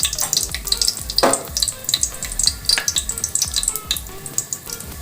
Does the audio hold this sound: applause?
no